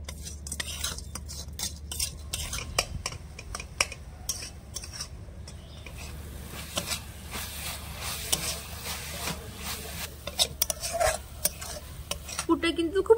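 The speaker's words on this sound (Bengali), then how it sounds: "এবার নেড়ে চেড়ে একটা পুর বানিয়ে নেব।" Coconut and jaggery filling being stirred in a pan, repeated scraping and rubbing strokes of a utensil against metal with faint sizzling, close and irregular throughout.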